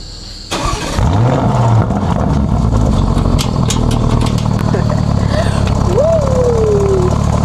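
A car engine cranks and catches with a sudden jump in level, then runs at a steady, loud idle with a brief whine rising and falling near the end.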